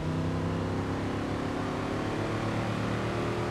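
A 1970 Chevelle SS 454 big-block V8 rumbles steadily in Forza Horizon 3, a loud, close, sustained engine drone with layered harmonic tones and no talking over it.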